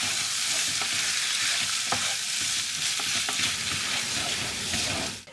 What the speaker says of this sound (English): give it all a good stir